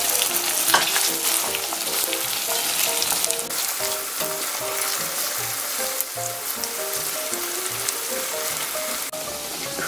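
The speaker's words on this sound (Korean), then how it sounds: "아까 그 기름에 튀겨내온 고구마를 넣어주셔서 저어주시면 됩니다" Deep-fried sweet potato pieces stirred into brown sugar syrup reducing in a pan, a steady bubbling sizzle with scraping stir strokes running throughout, close and fairly loud with no talk.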